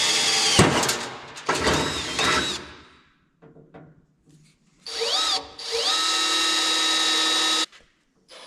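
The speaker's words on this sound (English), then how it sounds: "we'll drill the holes" A power drill bores holes for a snow cat axle mount, running in several loud sustained bursts with rising whine as it spins up, separated by short pauses and faint handling noises.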